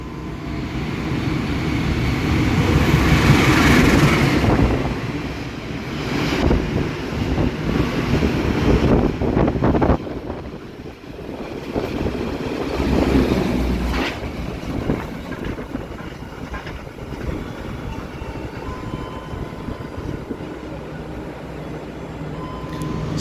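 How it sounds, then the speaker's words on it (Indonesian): Malabar passenger train rushing straight through Gombong station on track 2 without stopping, a loud broadband roar with clattering wheels and wind buffeting that gradually fades. "Jalur 2, kereta api Malabar melintas langsung Gombong."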